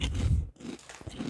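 Crunchy Ciki Super King snack chewed up close, with dense crackling bites and crunches in a short burst, with no talk.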